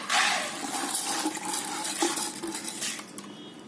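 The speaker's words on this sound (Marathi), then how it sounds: "हे धुवून घेतलेलं पाणी पूर्ण निथळून घ्यायचं" Washed sorghum grains in a pot are drained of water, a close, continuous splashing trickle mixed with clinks of metal utensils that tapers off toward the end, with no talking.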